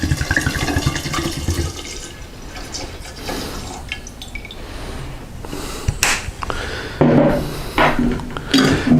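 Alcohol is poured into a jar of lemon peels for limoncello, giving a close, uneven glugging and splashing liquid stream that swells and fades over several seconds with no talk.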